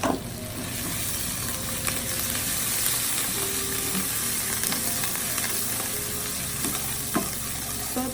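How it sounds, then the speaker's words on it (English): Garlic and ginger sautéing in hot oil in a wok for chicken stir-fry with pineapple and cashew nuts, a dense, steady, loud sizzle with scattered stirring clicks, close and continuous, no voices. "Saute the garlic and ginger until fragrant."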